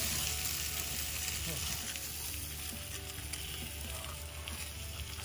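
Wild-caught salmon frying on an RV griddle gives a steady, fairly quiet hiss and crackle that holds for several seconds without a break, and nobody talks over it.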